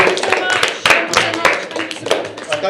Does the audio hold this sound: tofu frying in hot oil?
no